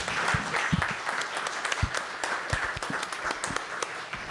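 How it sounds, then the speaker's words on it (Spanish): An audience at an electoral tribunal forum applauds to welcome a speaker, a dense, even patter of many hands clapping continuously for a few seconds at moderate volume. "les pido un aplauso, por favor, para recibir a Clicerio"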